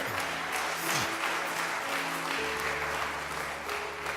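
A church congregation applauds during a sermon, a dense sustained clapping from a large crowd that fills the room, with faint music tones running underneath.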